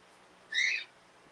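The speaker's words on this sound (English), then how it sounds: "That was my bird, not the one that's going wild in the brush" A pet bird gives a single short, clear whistled call, fairly close and alone over quiet room noise.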